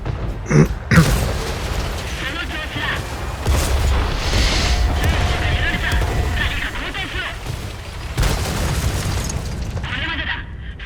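Artillery shells slam into a tank in World of Tanks, two heavy booming impacts early on followed by creaking, grinding metal and rumbling battle noise, with someone talking over the mechanical clatter.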